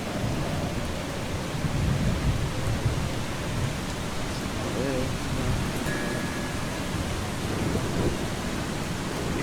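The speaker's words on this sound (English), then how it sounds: "oh, here comes the storm just in time" A thunderstorm with heavy rain in the video game Eastshade: dense, steady rain hiss with low rolling thunder rumbles underneath, continuous and enveloping throughout.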